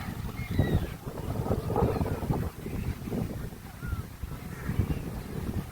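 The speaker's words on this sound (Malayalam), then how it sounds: "നല്ല രീതിയിൽ കാറ്റ് ഇവിടെ വീശുന്നുണ്ട്." Steady gusty wind roars and buffets the microphone throughout, rising and falling in strength, on Suryalanka beach, Andhra Pradesh.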